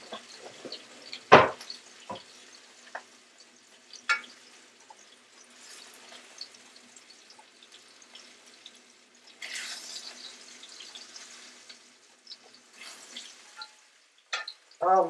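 Pork tenderloin fries in hot oil in a pan, giving a steady low sizzle broken by a few sharp pops and clatters from turning the meat, close by with no talking.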